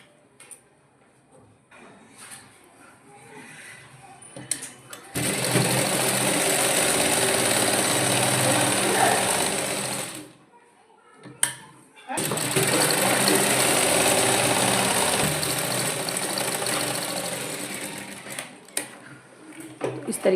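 A sewing machine stitches a baby girl's fancy dress in two long steady runs, the first about five seconds and the second about seven after a brief pause. Light handling noises come before and after, with no talk.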